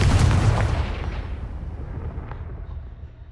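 A Confringo blasting spell explodes in Hogwarts Legacy, a single heavy boom at the start that rumbles and fades away over a few seconds, heard alone.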